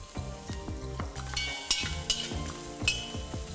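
Sliced onions with ginger garlic paste frying in a pan, a moderate continuous sizzle with a few sharp utensil clinks and stirring scrapes.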